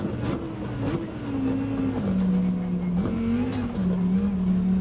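A Lamborghini race car in Gran Turismo 7 accelerates out of a corner on the Suzuka circuit, its engine droning steadily with rising and dipping pitch as it shifts, alongside faint tire noise.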